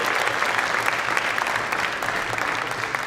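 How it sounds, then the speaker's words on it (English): A large audience at a university talk claps and cheers in sustained applause, dense and steady throughout with no break, filling the hall. "So give yourselves a round of applause."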